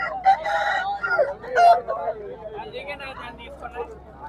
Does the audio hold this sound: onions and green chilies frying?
no